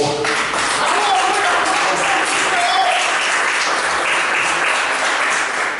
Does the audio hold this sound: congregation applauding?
yes